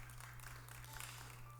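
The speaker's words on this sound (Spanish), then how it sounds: "Démosle un fuerte aplauso al Señor, vamos a orar." A church congregation applauds in a brief, faint patter of clapping over a steady low electrical hum.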